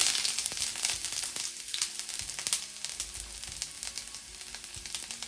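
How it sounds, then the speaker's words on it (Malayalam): Mustard seeds and chopped ginger sizzle in hot oil for a South Indian oats rava idli tempering, a steady close crackle dotted with sharp pops and no talking. "1 ടീസ്പൂൺ കടുക് ചേർക്കാം. ഇനി ഇതിലേക്ക് കുറച്ച് ഇഞ്ചി അരിഞ്ഞത് ചേർത്ത് കൊടുക്കാം."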